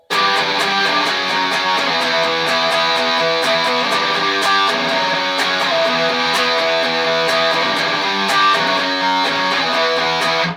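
An electric guitar riff played with fast, steady alternate picking, dense and continuous at an even loudness, with bright repeated note attacks and no voice over it.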